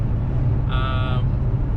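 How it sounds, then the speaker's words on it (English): A Mazda Miata engine runs at a steady low rumble, close and continuous, with a brief electronic tone sounding partway through. "Everything should be good though. The car's running fine."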